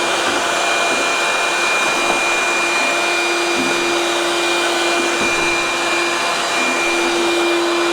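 A Dewalt DCV517 cordless vacuum sucks up sawdust around a bandsaw after resawing, giving a loud, steady whirring roar with a high constant whine and airy rush, unbroken from start to finish.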